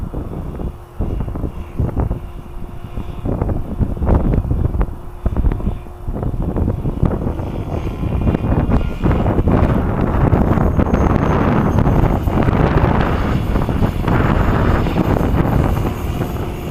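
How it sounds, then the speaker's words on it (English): Strong wind batters the microphone outdoors, with heavy buffeting gusts and rumble, choppy at first and then a sustained loud roar building through the rest of the clip. "Doesn't want to come. That's how bad the wind is."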